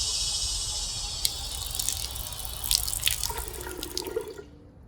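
Water pours into a common bowl at a congregation's water sharing service, a steady splashing trickle that grows brighter and more gurgling before stopping abruptly.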